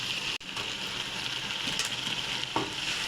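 Chicken frying in a pan with onion and spice masala, a steady close sizzle and hiss with brief stirring noises, no talking.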